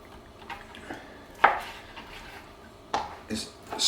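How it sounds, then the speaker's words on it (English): Knife chopping raw chicken breast into squares on a board, a few irregular sharp taps spaced apart against quiet kitchen background. "all I'm doing is I'm just chopping it up into kind of squares really"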